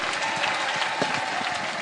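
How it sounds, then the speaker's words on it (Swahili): A large crowd at a requiem gathering in Kisumu applauds the governor, dense steady clapping that carries through the whole stretch with no speech over it. "Makofi kwa gavana wetu"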